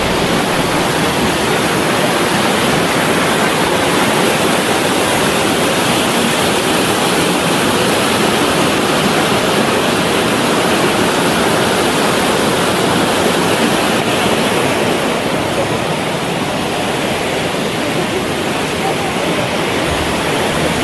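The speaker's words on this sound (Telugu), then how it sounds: "కింద చూస్తే బ్యూటిఫుల్ వాటర్ ఫాల్ అయితే ఫ్లో అవుతున్నాయి" Banjakri waterfall in Gangtok, Sikkim, pours down in a loud, dense, unbroken roar of rushing water that holds steady throughout, with no other sounds standing out.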